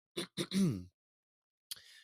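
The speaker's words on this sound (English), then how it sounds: "Let me clear my throat." A voice clears its throat with a few short, rough bursts up close, then falls briefly silent before a faint breathy sound.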